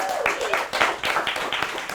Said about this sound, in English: round of applause for the brand team on this